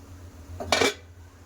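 A steel tiffin box steaming in a pan has its lid lifted, giving one short metallic clank and scrape with a brief hiss, close and alone over a low steady hum.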